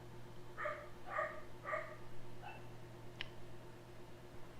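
Dogs barking nearby, three quick barks in a row followed by a softer yip, over a steady low electrical hum.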